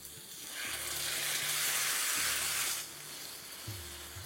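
Mutton pieces hit a hot tawa a little at a time for a tawa fry, giving a loud, steady sizzle that swells broadly, eases after a few seconds, and carries faint stirring knocks underneath.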